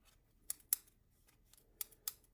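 Scissors snip through ribbon for a faux bow in a quiet craft room, a few sharp isolated cuts in two pairs spread across a couple of seconds, close and crisp against near silence.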